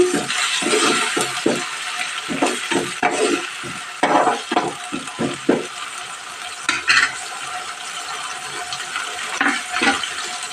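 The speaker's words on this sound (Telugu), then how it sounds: "నాలుగు పచ్చిమిర్చి చీలికలు అయితే వేసుకోండి కలుపుదాం ఒక్కసారి" Green chilli slits stirred into egg curry in a pan, with a series of scraping stirs and soft sizzling that come and go over steady frying noise, fairly close with no voices.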